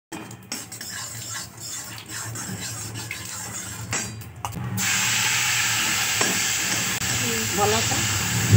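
Pointed gourd pieces fry in oil with turmeric in a pan, giving a steady close sizzle that swells louder and more constant partway through, with faint stirring scrapes and no talk.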